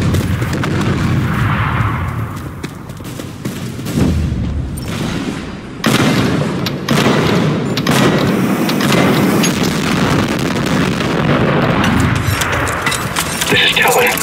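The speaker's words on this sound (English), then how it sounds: "Commencing airstrike." Heavy booms and rumbling blasts from an airstrike in the video game Trepang2 roll through a dense, loud mix, with a sharp new burst partway through and sustained low rumble after.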